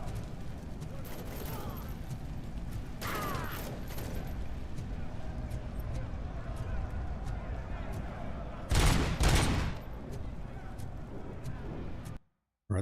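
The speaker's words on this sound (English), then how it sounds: "You're shooting at me." Enemy gunfire aimed at the player in Robocop: Rogue City, scattered shots and a louder close burst over a steady low rumble of game ambience, cutting to silence just before the end.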